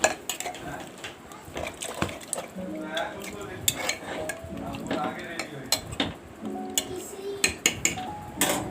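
Chicken and potato curry being stirred in a pot after water goes in, with irregular clinks and knocks of a spoon against the metal pan and a faint simmer underneath, no talk.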